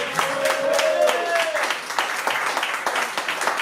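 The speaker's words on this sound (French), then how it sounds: "Et je vous demande d'applaudir Lucie, s'il vous plaît." Applause from a concert audience at La Zonmé in Nice keeps up as a steady patter of many hands. A voice rises over the clapping briefly near the start.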